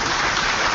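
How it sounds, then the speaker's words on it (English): Dense, steady applause from an audience at an event, thanking four volunteers, filling the brief moment evenly without a voice over it. "a big round of applause for these 4 volunteers actually"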